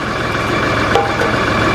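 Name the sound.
tractor engine running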